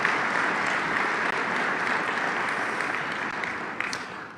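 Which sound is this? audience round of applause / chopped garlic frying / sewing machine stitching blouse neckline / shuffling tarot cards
audience round of applause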